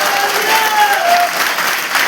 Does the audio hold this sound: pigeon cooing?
no